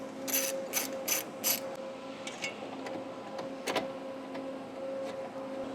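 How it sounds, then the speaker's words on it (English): A ratchet clicks rapidly while removing the two bolts of a Porsche 911 blower motor shroud, short close bursts over a steady hum in a quiet garage. "we're going to remove the 2 bolts that hold the blower motor shroud in place."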